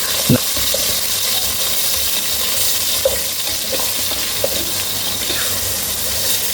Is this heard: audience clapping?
no